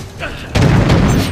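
A grenade goes off with a single loud, broad blast in Resident Evil: Operation Raccoon City, with the heavy rumble sustaining briefly after the initial hit.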